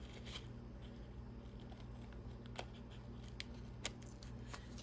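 Scissors snipping sticky artist masking tape at a craft table, a few faint, sharp, isolated cuts over quiet room hum.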